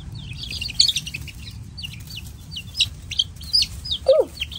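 Young chicks near a brooder cheeping in rapid high-pitched peeps over a low background hum, with one deeper cluck near the end.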